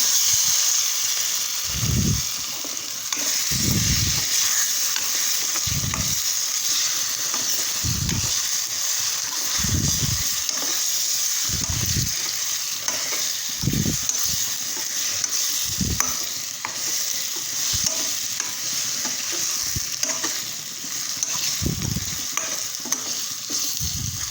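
Sliced bitter gourd sizzles steadily in a hot pan while a spatula stirs it, each scrape landing as a soft thud or clatter every couple of seconds over the continuous close frying hiss.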